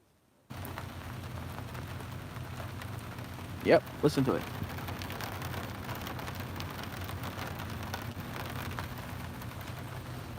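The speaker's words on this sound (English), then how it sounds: "The downpour is here now." Steady, dense hiss of heavy rain pouring down, with a voice speaking briefly over the constant wash of water.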